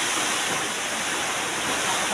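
Flowing water rushing in a steady, loud, broadband roar for two seconds, close by, with no talk over it.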